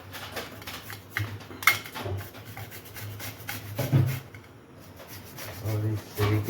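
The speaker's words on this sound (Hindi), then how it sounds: "अदरक को इस तरीके से घिसेंगे।" Fresh ginger rasped on a grater while making sabudana khichdi, a soft scraping rhythm of repeated strokes close by, mixed with kitchen clatter and someone speaking.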